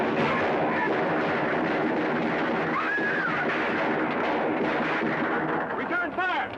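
Gunfire in a film shootout crackles almost nonstop at close range, a dense sustained barrage with faint voices shouting under it.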